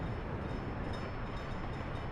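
A train rolling along in the city-building game Workers and Resources: Soviet Republic, a steady, dense rumble that holds at an even level for the whole stretch without any talk over it.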